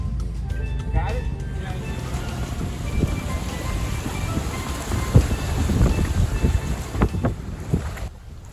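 Steady wind buffeting the microphone at floating docks during a sailboat launch on a windy afternoon, a constant rushing roar with water and boat knocks beneath it, while people talk nearby.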